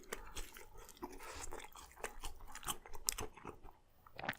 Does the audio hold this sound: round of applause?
no